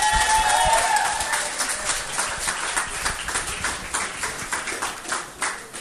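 An audience at a live vocal night breaks into applause for an act, a dense patter of many hands clapping that starts strong and gradually thins and fades.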